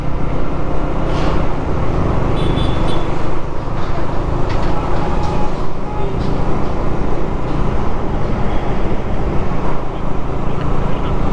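A group of KTM motorcycles rides together along the road, their engines merging into a steady, loud rush of engine and wind noise with no clear breaks throughout.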